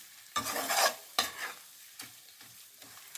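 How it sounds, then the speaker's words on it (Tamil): Masala for a brinjal gravy is stirred and fried in oil in a pan, giving a few distinct scraping stir strokes over a soft sizzle, close and clear with no talk. "அதுங்க எண்ணெய் பிரிஞ்சு வர வரைக்கும் அப்படி வதக்கிக்கலாம் அந்த பச்சை வாடை போகிற வரைக்கும் கொஞ்சம் ஃப்ரை பண்ணிக்கலாம்"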